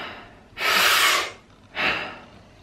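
Deep Wim Hof method breathing: one long, loud rushing inhale followed by a shorter forceful breath, close to the microphone with no talking.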